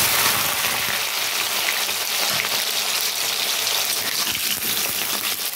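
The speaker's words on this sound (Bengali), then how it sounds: "তো প্রথমে আমি আলুটা ভেজে নেব।" Potatoes fry in already hot oil in a wok for an egg paneer recipe, giving a steady, close, crackling sizzle that continues without pause and without speech.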